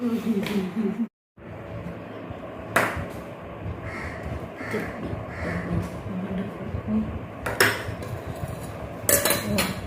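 In a home kitchen, a steel spoon and dishes clink and clatter while a spoon is fetched, giving scattered bright metallic pings and knocks over a low room background, with a brief dropout near the start.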